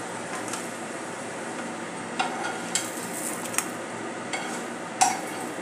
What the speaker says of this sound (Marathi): अशा प्रकारे मी भाजून घेते